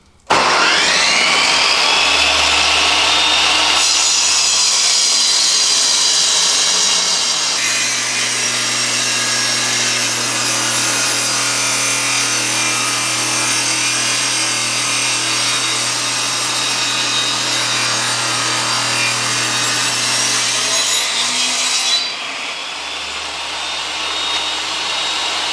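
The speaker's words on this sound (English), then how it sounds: "I've got the table saw set up already to cut this exactly down the middle" A table saw rips a wooden board down the middle, its motor spinning up and then holding a loud, steady cutting whine for about fifteen seconds before winding down, with no talking.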